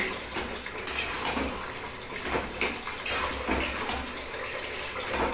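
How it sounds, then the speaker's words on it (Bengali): Hands are rinsed under a running kitchen tap while preparing kochu shak (taro leaves) with tamarind pulp. Water streams steadily with splashes and brief clattering bursts, close and moderately loud, with no talk. "হাতটা ধুয়ে নিচ্ছি।"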